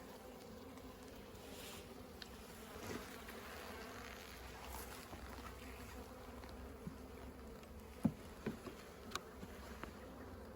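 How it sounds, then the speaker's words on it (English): Honeybees hum in a top bar hive opened for a spring inspection, a steady, close, low buzz with individual bees passing near, plus a few faint clicks and knocks from handling. "You can see the bees are pretty content today, very docile."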